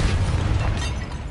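Explosive Confringo spell going off in Hogwarts Legacy on PS5, a loud, sustained rumbling blast with crackling debris that fills the whole moment without any talk.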